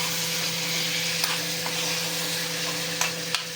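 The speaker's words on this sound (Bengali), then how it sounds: "একটু ভেজে নেবো চিকেনটা বাটারের সঙ্গে, যাতে কাঁচা গন্ধটা চলে যায়।" Chicken pieces frying in butter in a pan for a chicken soup make a steady, moderate sizzle over a low constant hum, with a few brief clicks and scrapes of stirring.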